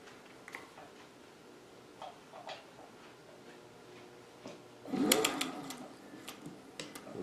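A sewing machine stitches cotton fabric in a quiet, rapid ticking run, with a louder clattering burst partway through and soft taps around it.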